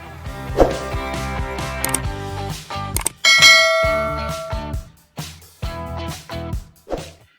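A quick series of ringing bell tones and metallic clangs, each striking sharply and fading, fairly loud with no talking.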